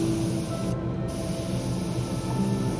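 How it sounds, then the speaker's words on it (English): A continuous airy hiss of an airbrush spraying paint on a model car runs close and steady, broken by one brief pause near the start. "This airbrush is spraying like a moon shape spray."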